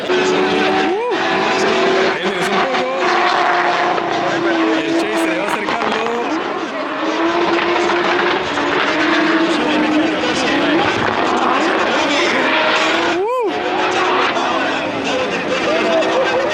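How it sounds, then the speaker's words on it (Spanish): Drift car engines rumble and roar steadily from a distance at a Drift Masters GP event, with rising revs and a dense, continuous outdoor din. "Estamos muy lejos y se escucha la pisada, el retumbe de todos los autos de una manera impresionante"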